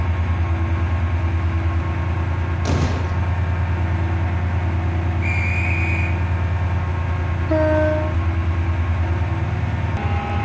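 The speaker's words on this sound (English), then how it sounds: "Welcome on board this Stepford Connect service to Beachley." Class 68 locomotive running in the SCR (Stepford County Railway) video game, a steady loud diesel engine drone throughout with a few brief tonal chimes and whines layered on top, no voices.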